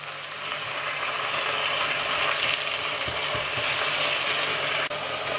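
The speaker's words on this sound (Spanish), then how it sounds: "vamos a coger la pechuga de pollo que hemos salpimentado y la echamos aquí hasta que sellen todos los lados" Salt-and-pepper seasoned chicken breast searing in a pan with onion, a loud, close, continuous crackling sizzle with a dense ratcheting texture and a few soft knocks, no voices.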